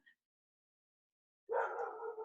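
A pet dog barks nearby indoors, a sudden loud burst breaking the silence and lasting under a second.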